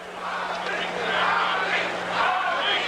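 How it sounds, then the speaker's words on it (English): A boxing crowd at the Muhammad Ali vs Larry Holmes fight chants Ali's name, a sustained, rising and falling roar with a commentator's voice heard over it. "They're chanting Ali, Ali, Ali."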